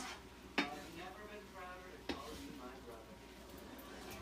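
Cauliflower fried rice is stirred in a pan with a soft, steady sizzle and two sharp utensil knocks against the pan. A voice talks quietly over it.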